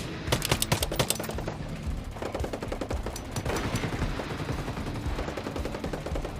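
Rapid Maxim pistol shots ring out in the tactical shooter Ghost Recon Breakpoint, a sharp burst of closely spaced reports with echoing tails, then a steady string of further shots.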